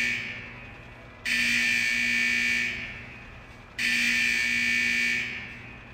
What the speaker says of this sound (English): Those alarms indicate that we're encountering some minor technical difficulties with the fusion press unit.